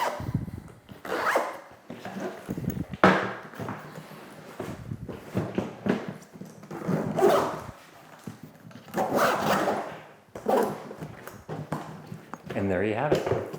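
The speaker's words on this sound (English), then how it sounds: "Let's get this zip back up." The zipper on a WANDRD Transit 40L rolling carry-on case rasps shut in several long pulls, close and loud, with brief pauses between strokes.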